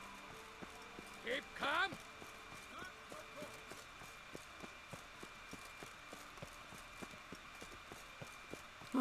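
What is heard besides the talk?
horse Roach hooves, video game The Witcher 3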